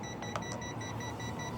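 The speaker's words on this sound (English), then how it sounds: "You hold the left stick down for 1 second, and then it'll beep" A Hubsan X4 Cam Plus quadcopter emits a short series of quick, faint electronic beeps over a steady high-pitched tonal hum, with no talking.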